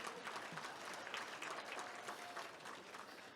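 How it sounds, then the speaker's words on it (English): Conference audience applauding at an early-morning breakfast plenary session, a steady dense patter of many hands clapping throughout, moderately loud and continuous with no talking. "Let's give you a round of applause"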